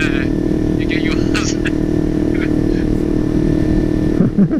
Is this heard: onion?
no